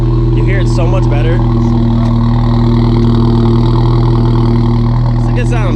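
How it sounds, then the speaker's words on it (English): A turbocharged MK3 VW Jetta VR6 engine idles loud and close with a steady deep hum and rumble, while voices talk over it. "There's so much turbo now."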